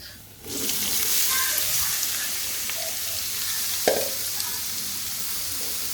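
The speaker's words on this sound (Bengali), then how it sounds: "পেঁয়াজটা ভাজা হয়ে গেলে ফুলকপিগুলো দিয়ে দিব সিদ্ধ করা ফুলকপিটা" Boiled cauliflower frying with onions in a pan gives a steady, close sizzle throughout, with a brief clatter of a stirring spoon partway through.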